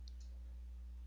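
Two quick computer mouse clicks at a desk, faint and close, the second a fraction of a second after the first, over a steady low hum.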